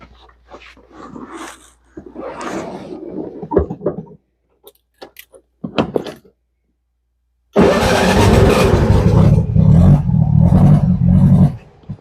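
A long-dormant 1961 VW Beetle engine cranks without firing, fuel not yet reaching it; a few scattered knocks and short noises come first, then a loud steady cranking run of about four seconds.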